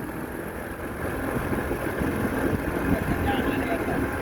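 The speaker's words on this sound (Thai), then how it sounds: "เรือไฟเบอร์10ฟุตนะครับเกาะเครื่องห้าแรง ห้าแรงอ่าเครื่องเครื่องตัดหญ้านะครับ ไม่ใช่เครื่องเรือนะครับ เป็นเครื่องตัดหญ้าเครื่องฮอนด้านะครับ" A small 10-foot fiberglass boat driven by a Honda 5 hp grass-cutter engine, a steady mid-pitched motor drone running continuously, close and fairly loud, with water wash beneath it.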